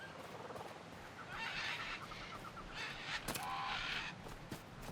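Birds squawking and cawing in the survival video game Lost Skies, several harsh calls in bursts over a steady low ambient background, moderately distant.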